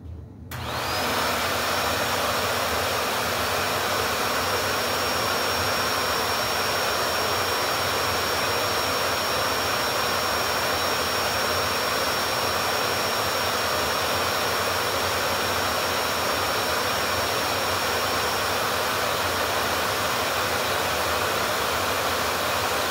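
A Shark ZU560 Lift-Away vacuum switches on and runs at low power with its suction relief fully open and all filters in, a sudden start settling into a loud, steady whooshing roar with a faint high whine, unbroken for over twenty seconds.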